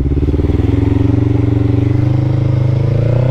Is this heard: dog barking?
no